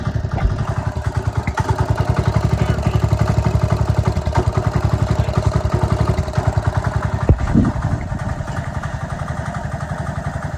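A small engine runs steadily at a fast, even idle, its rapid chugging clatter loud and close throughout.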